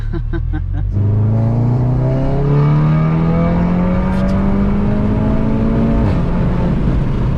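A 400-horsepower Golf 7.5 R with an APR Stage 2 tune accelerates hard, its exhaust note climbing steadily through one long rising pull before a shift, with a few short crackling pops at the start; the engine stays loud and close throughout.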